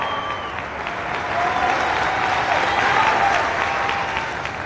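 Sustained applause from a large crowd at a rally, dense and steady throughout, swelling slightly in the middle.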